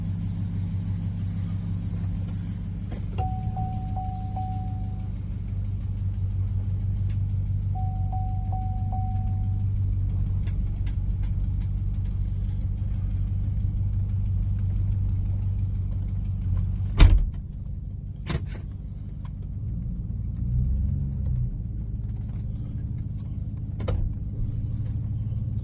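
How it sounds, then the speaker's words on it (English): Idling 2007 Chevrolet Suburban engine with an exhaust leak, a steady low rumble throughout, with a couple of brief tones and a sharp knock or door-like thud partway through. "that sounds that damn exhaust leak"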